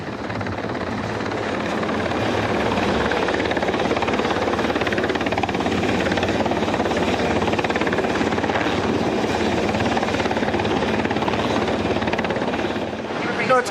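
A helicopter hovers close over a naval ship's deck in turbulent wind coming off the back of the hangar, its rotor roar loud and steady throughout with no letup.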